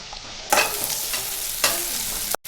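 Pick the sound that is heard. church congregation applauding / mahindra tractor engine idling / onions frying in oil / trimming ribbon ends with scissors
onions frying in oil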